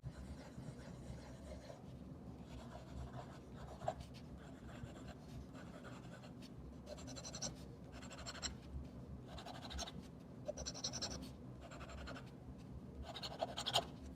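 A fountain pen scratches across Cosmo Air Light paper in a quiet room, a soft steady rasp broken into short strokes and pauses as words are written, with no talking.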